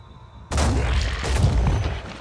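Auto cannon firing in the turn-based tactics game Phoenix Point, erupting suddenly into a loud, dense rumbling burst of rapid shots that rolls on and gradually thins without any voices.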